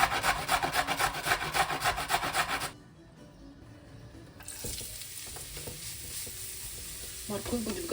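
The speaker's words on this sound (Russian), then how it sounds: "Нам нужно будет морковь натереть на крупной терке и обжарить на оливковом масле." Coarsely grated carrots fry in olive oil in a pan while being stirred. Quick rhythmic scraping strokes give way to a quieter, steady sizzle with occasional light clinks. No one speaks.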